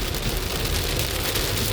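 Heavy rain pours steadily onto a car during driving, a dense, continuous hiss and patter with no voices. It sounds close and loud inside the cabin.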